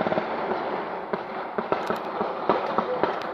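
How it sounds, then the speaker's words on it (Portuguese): Rapid bursts of gunfire crack repeatedly over a dense, noisy outdoor background in Vila Elmira, Barra Mansa, Brazil, shots scattered irregularly and sounding fairly close. "muito tiro"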